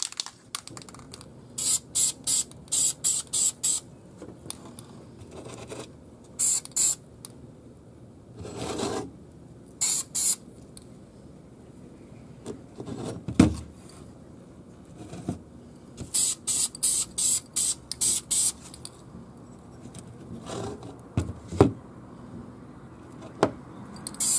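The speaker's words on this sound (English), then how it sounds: "So you can see I really gave him a good dousing of paint" Clutch parts are spray painted from a rattle can in short hissing bursts, several quick pulses in a row, with pauses and small handling knocks between them.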